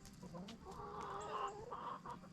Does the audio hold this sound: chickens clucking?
yes